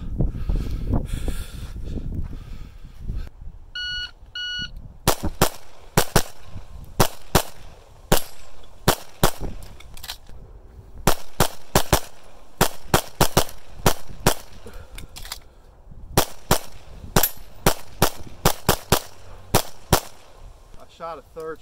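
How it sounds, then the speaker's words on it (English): Repeated sharp gunshots during a shooting training session, fired in quick strings of two and three with short pauses between groups, loud and close, with wind noise in the background. "Shot a third shot there on that one."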